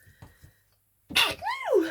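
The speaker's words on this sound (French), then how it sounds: "atchoum, je m'enrhume" A single sharp sneeze bursts out close to the mic with a breathy rising and falling tail, preceded by a few soft faint sounds.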